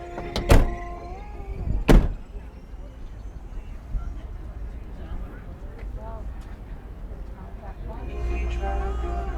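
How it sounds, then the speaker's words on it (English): Two car doors slam shut one after the other, loud and close, each a sharp heavy thud, followed by a low steady vehicle hum as voices murmur in the background. "You shut the door."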